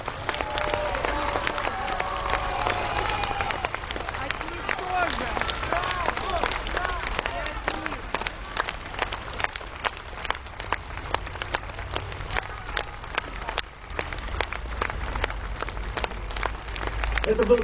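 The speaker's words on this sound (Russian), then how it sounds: "В память о тех, кто 80 лет назад играл в Большом зале филармонии блокадного Ленинграда, звучат ваши аплодисменты" A large open-air audience at an outdoor concert in Victory Square, Saint Petersburg, claps in sustained applause, a dense crackle of many hands with scattered louder claps, continuing steadily for nearly eighteen seconds with faint crowd murmur beneath.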